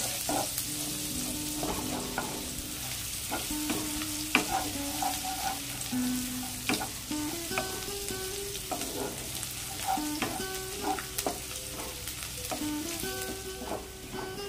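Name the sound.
garlic cloves frying in oil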